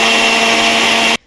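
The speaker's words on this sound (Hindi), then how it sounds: "फटाफट से दाल को पीसते हैं" Mixer grinder grinding lentils (dal), a loud steady high-pitched motor whine running alone and continuously before cutting off abruptly at the end.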